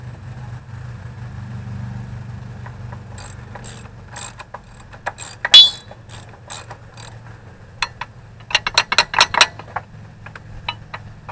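A ratchet wrench loosens long, fine-thread bolts on the front axle of a 1952 Ferguson TO-30 tractor in a workshop: scattered quick clicking bursts over a low hum, turning busier and denser toward the end.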